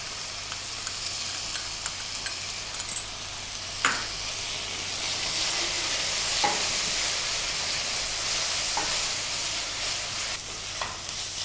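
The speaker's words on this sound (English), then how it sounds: "Let's mix the curd, cream, garam masala and the turmeric and add it to the keema mixture." Curd, cream, garam masala and turmeric being stirred into a minced mutton keema mixture in a pan, with a steady soft sizzle of frying underneath and a few sharp scraping clicks of the spoon, no talking.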